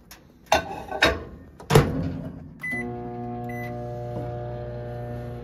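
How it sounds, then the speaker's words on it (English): A microwave oven heating chicken: a few loud thumps and clicks of the door and buttons, a short beep, then the steady, even hum of the running oven at moderate level. "microwave the chicken."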